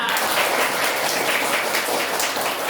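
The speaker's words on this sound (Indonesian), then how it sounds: "tepuk tangan untuk semuanya" Steady group clapping in an Indonesian classroom lesson on coding and AI, a dense, even patter of many hands held at a constant level from start to finish, with no talk over it.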